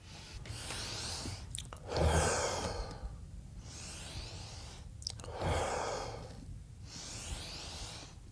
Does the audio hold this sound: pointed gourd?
no